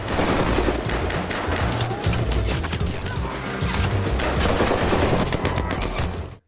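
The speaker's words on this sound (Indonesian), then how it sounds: "aksi baku tembak pun gak bisa dihindarkan" Dense, rapid gunfire in a film fight scene rattles almost continuously, bursts of automatic shots overlapping with sharp impacts and crashes, loud and close throughout.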